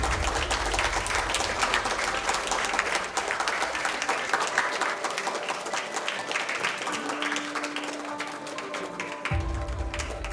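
Audience clapping at the India-Japan Intercollegiate Competitions 2025 prize distribution function: sustained, dense applause from many people in a hall, holding steady throughout, with faint tonal sounds entering near the end.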